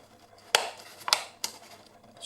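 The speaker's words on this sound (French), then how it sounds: "Je suis désolée pour le bruit du papier qui craque." Paper crackling as an origami box is folded: three sharp, close crinkling bursts with quieter rustling between them.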